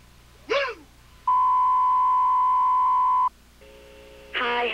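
An answering machine's steady electronic tone holds for about two seconds, followed by a lower multi-tone beep, with a short vocal whoop at the start and end.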